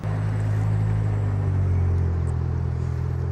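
Nissan A31 pulling away on a street in Pattaya, its engine a steady low rumble with a constant drone, fairly close and unbroken, no talking.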